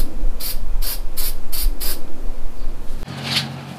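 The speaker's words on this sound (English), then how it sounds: "I need to make sure I envelop this thing in paint to protect it so that it doesn't corrode over time." Aerosol paint sprayed onto a steel part for a Warn Elite front bumper on a Jeep JL, five short, loud hissing bursts in a quick even rhythm, then a quieter pause and one faint final puff.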